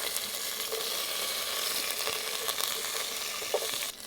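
Mustard seeds and curry leaves fry in sesame oil for a carrot, ginger and garlic pickle, a bright, steady sizzle with scattered pops and crackles heard up close, fading slightly at the end.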